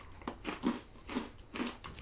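Four crisp crunchy bites of a cinnamon gingerbread-style vending machine cookie in a steady rhythm, close to the microphone, with no talking.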